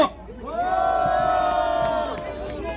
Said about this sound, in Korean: 힘찬 함성으로 모시겠습니다